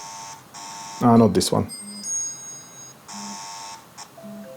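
Alarm beeps from an NS Panel Pro smart panel set up in an eWeLink Sonoff automation, sounding as short repeated electronic tones with a brief burst of talking partway through.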